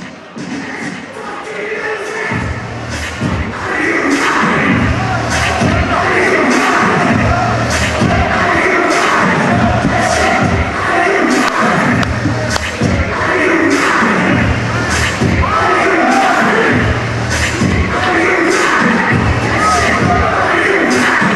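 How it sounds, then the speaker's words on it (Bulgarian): Basketball fans in a Bulgarian arena at a Beroe versus Dunav game chant in a loud, steady crowd roar with rhythmic thumps and bangs, while a commentator talks over it. "Вече агитки скандират"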